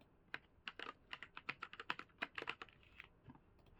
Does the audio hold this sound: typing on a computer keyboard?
yes